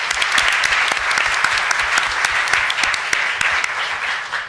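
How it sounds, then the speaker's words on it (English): Audience at a poverty-reduction conference at Brooklyn Law School breaks into sustained applause, a dense even patter of many hands clapping with no talk over it. "Let's give them an applause."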